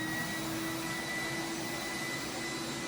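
A Titan Cap Spray 115 HVLP paint sprayer gives a steady, loud hiss of rushing air with a faint whine throughout, unbroken and without voices.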